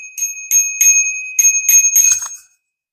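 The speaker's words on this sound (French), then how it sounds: "Il n'y a pas de sonnette, et donc du coup, j'ai trouvé ça sur Temu." A cheap handlebar bicycle bell bought online rings in quick bright dings, six or so strikes with short gaps between, close and loud, then stops into silence.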